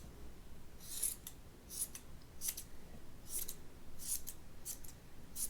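Scissors trim a yarn pom pom in about seven quiet, crisp snips spaced roughly evenly apart, heard close up alone.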